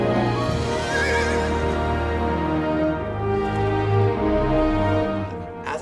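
Horse neighing in a war film scene, a loud, close, drawn-out whinny with shaky pitch over faint hoof clip-clops and a low background score, continuing for several seconds with no speech.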